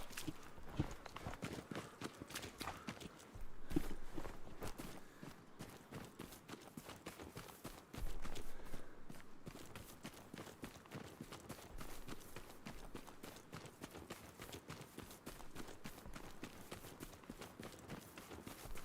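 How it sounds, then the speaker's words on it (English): Footsteps thud in a steady, repeated rhythm through the Hell Let Loose video game, fairly faint and mixed into a dense background of ambient battlefield noise, with occasional louder bursts. "I hear a footstep."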